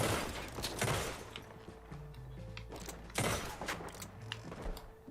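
Gunfire crackles in Red Dead Redemption 2, with two loud bursts of shots over a low mechanical game backdrop and faint creaks between them.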